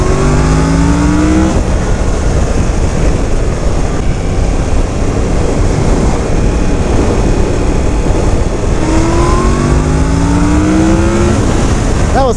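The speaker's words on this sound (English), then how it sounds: "That was full throttle in A mode in 3rd gear." A 2017 Yamaha FZ-10 motorcycle pulls hard at full throttle in A mode in third gear, the loud engine note rising steeply in pitch through the rev range, then easing and surging again.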